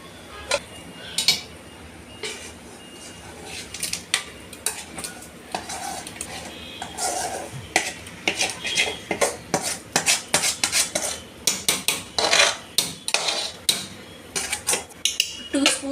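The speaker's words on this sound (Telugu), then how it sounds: "సో ఇప్పుడు ఇదంతా కలిసేలా మనము కలుపుకోవాలి." Mutton stirred with masala in a metal pot: a steady run of scraping, clinking ladle strokes against the pot, quickening toward the end, with a soft sizzle underneath and no talk.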